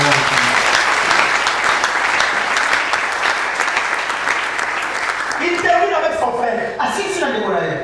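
A church congregation applauds during a sermon, a loud, sustained round of clapping that fills the hall, with a voice speaking over it near the end.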